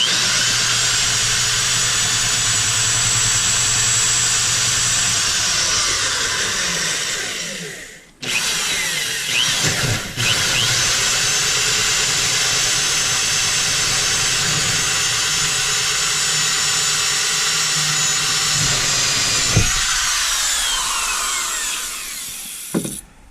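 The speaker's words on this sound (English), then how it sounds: "So I'm going to use this to drill the hole." A power drill bores a cable hole for a Lowrance Halo radar installation, a loud steady whirring grind that stops and restarts briefly, then runs on and winds down, close up.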